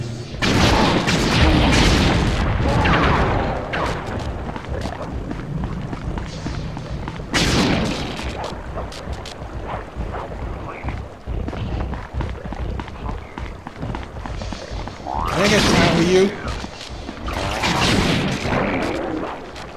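Bomb explosions in the Sly 3 video game, several loud booming blasts with rumbling tails spread across the stretch, amid busy game sounds.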